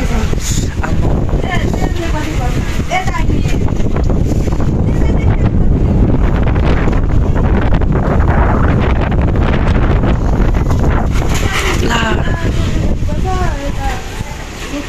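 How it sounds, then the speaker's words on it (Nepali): Strong windstorm buffeting the microphone outdoors near Bhadrapur station, a steady loud roar of gusting wind that holds throughout and eases slightly at the end. "एकदम हावाहुरी आइरहेको छ।"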